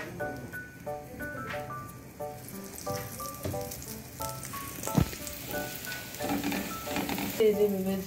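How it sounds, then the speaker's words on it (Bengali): Food frying in a pan while breakfast is cooked, with a soft continuous sizzle at low level, scattered utensil clinks, and faint tonal beeps in the background. "এই যে ভেজে এখানে রাখছি।"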